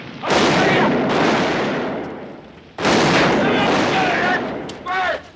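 Gunfire from the OK Corral gunfight scene in the 1993 film Tombstone: two long, loud volleys of dense shots, then a short final burst, with shouting voices over the blasts.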